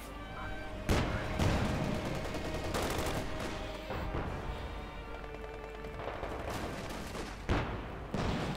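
Gunfire in the wartime strategy game Company of Heroes 2 keeps up continuous crackling rifle and machine-gun fire, punctuated by several sharp, louder blasts.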